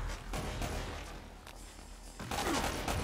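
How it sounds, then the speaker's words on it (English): Grenade blasts and bursts of gunfire in Uncharted: Drake's Fortune Remastered on PS4, a dense run of loud thuds and crackling shots across the whole moment, heaviest near the end. "The fuck keeps throwing grenades?"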